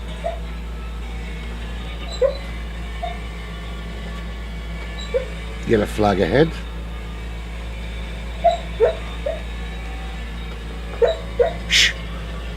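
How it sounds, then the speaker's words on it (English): A pet dog named Holly gives scattered whimpers, yips and one short burst of barks while dreaming indoors, faint and intermittent beside a steady low hum, with a brief spoken remark. "Apologise for that, my dog is having a dream."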